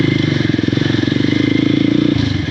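A Honda CRF motorcycle engine chugs steadily at low revs, with rattling and clatter as it rolls over a bumpy island trail, close and loud throughout.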